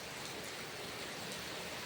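Heavy monsoon rain falls steadily, a dense, even hiss of drops on surfaces that fills the short moment without pause and with no voices.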